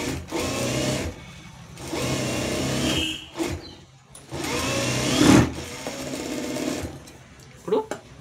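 A sewing machine stitches a blouse with long stitches, running in several loud bursts of a few seconds each, separated by short pauses and small handling clicks.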